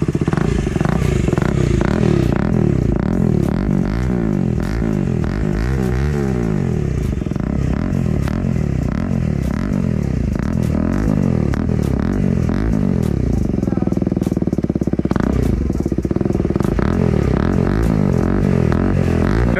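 A KTM motorcycle fitted with a loud full-system exhaust revs hard and close up, its deep, raspy engine note rising and falling in repeated throttle blips for the whole stretch, with no talking.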